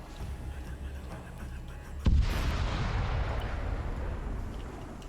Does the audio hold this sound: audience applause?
no